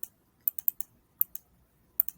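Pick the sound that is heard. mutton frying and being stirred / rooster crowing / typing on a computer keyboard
typing on a computer keyboard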